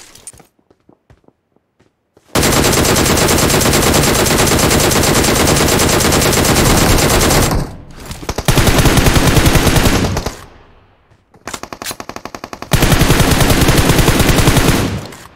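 Automatic rifle fire in PUBG Mobile: a few sparse single shots, then long loud sustained bursts of rapid gunfire broken by short pauses, close and dominant.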